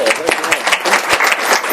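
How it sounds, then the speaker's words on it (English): A school board meeting audience claps for a student in a short burst of scattered, moderately loud applause, with a voice speaking over it. "Can we clap for him?"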